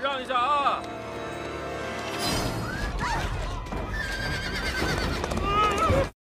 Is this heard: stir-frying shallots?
no